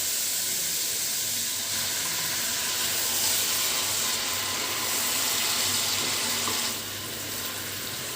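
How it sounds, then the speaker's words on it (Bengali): Water poured into a pan of fried spices for a prawn curry in coconut milk, giving a steady, close hiss and sizzle that keeps running throughout and eases off slightly near the end. "এবার এতে সামান্য করে জল মিশিয়ে দিতে হবে।"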